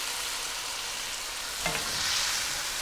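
Vegetables and chicken frying for chicken jalfrezi as soy sauce and vinegar hit the pan, a steady hissing sizzle with a brief louder burst of spatter and a clink partway through.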